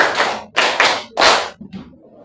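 Loud, close hand clapping in a counted rhythmic pattern: three strong bursts of claps, the last one longest, followed by a softer tail and near silence.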